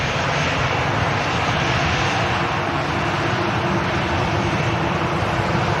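A KLM airliner rolls past at Manchester Airport, its jet engines producing a loud, steady, broadband roar that holds nearly constant throughout, close by and unbroken.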